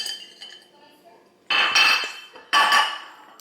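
Kitchen utensils clatter and clink against a bowl in two loud bursts while mixing cornmeal pancake batter, following quieter light tapping.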